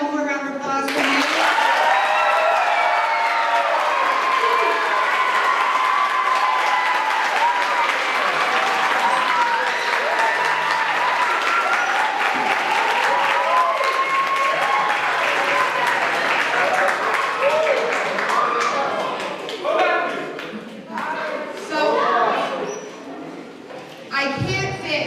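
Sustained audience applause at an elementary school spring band concert, loud and steady for about twenty seconds, then thinning into scattered claps and voices.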